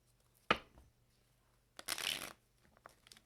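Large tarot cards riffle and slap together in two bursts, a sharp snap followed by a longer papery shuffle, close and alone in a quiet room.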